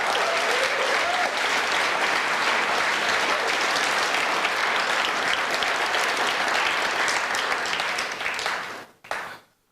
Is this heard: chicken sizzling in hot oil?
no